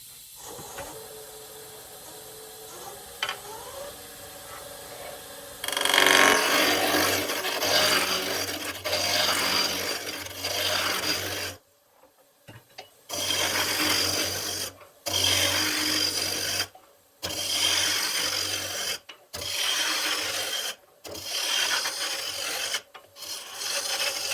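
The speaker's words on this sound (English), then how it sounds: "Now I'm going to rough it out using my spindle roughing gouge." A spindle roughing gouge roughs out a wood blank on a lathe: a loud, close scraping rasp in repeated passes broken by short pauses, over a low machine hum.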